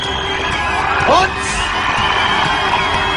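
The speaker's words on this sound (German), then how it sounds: "Jubel hier am Wiener Rathausplatz." A crowd cheers at an outdoor stunt event on Vienna's Rathausplatz, a broad sustained roar with one louder swell, while a commentator speaks over it.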